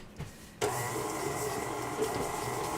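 A stand mixer with a paddle attachment beats thick eggnog fudge batter, starting after a brief quiet moment with a steady, loud motor whir and churning hum that continues without a break.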